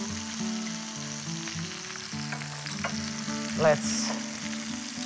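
Zucchini and spices toasting in a hot pan with a soft, steady sizzle and light stirring noises, fairly quiet, with a brief voice near the end over a faint tonal background.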